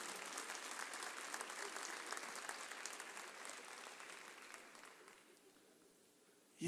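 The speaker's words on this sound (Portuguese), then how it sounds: "Uma salva de palmas para o meu irmão ali." A church congregation claps for a brother, a dense wash of applause that holds steady for several seconds before fading away, with no talking over it.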